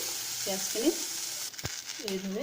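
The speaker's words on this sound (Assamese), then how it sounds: "পিঁয়াজখিনি অলপ ভজা হোৱাৰ পাছত" Onions frying in a wok, a steady close sizzle with a metallic scrape of stirring partway through and a voice talking over it.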